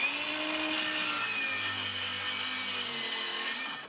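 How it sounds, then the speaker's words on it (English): A saw cuts through wood for a shed ramp below a marked line, a steady continuous rasping stroke that holds close and loud without pause, no voices. "now I can cut off a little bit below that mark to make sure I have enough room here for the plywood on top"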